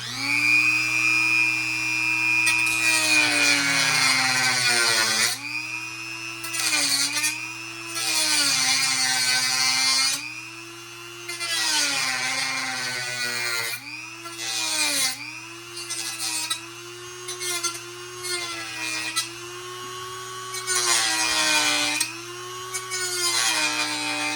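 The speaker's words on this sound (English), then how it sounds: "I'm gonna go ahead and cut this little nubbin off here." A Dremel rotary tool with a cutting blade grinds through a small plastic nubbin on a Proton Pack prop, giving a loud, steady high whine that dips and rises as the blade bites into the plastic.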